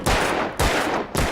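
Three sharp gunshots from shooting cans in the Alan Wake video game, evenly spaced about half a second apart, each a loud crack with a short ringing decay, no talking.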